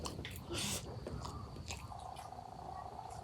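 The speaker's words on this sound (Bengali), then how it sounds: "বাগুন ভর্তা খাচ্ছি" Eggplant bharta being eaten up close, with soft wet chewing and a few quiet bites in quick succession, faint and intimate.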